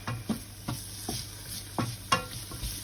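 Ginger and chili fry in a pan for a spicy chickpea curry, a quiet sizzle broken by regular scraping stirs of a utensil against the pan, about six strokes, with no talking.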